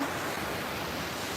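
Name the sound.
sea waves at Malpe Beach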